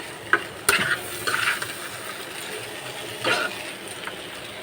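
A curry being stirred and fried in a pan gives a steady soft sizzle with a few sharper scraping clinks of a utensil against the pan, close by and with no talk.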